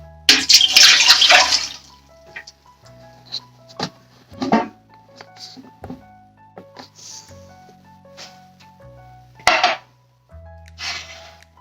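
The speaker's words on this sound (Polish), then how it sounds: "Najpierw woda," Water is poured into the pan of a bread machine for homemade bread, a short splashing burst at the start, followed by quieter clinks and light knocks of kitchen handling.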